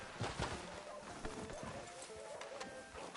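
Horse hooves clip-clop at a walking pace in Red Dead Redemption 2, on a town street outside a sheriff's office, fairly quiet amid other faint game ambience.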